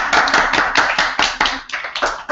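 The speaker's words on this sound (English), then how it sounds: "Okay, clap." A small class of children claps by hand in a steady series of close, sharp claps, about a dozen beats in quick rhythm, loud and near with no talking.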